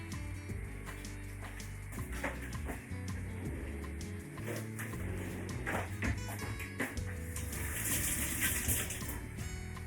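Water poured into a pan of blackcurrants with caster sugar, a steady running splash like a tap filling, continuous for the whole stretch with some clinks of kitchen handling mixed in.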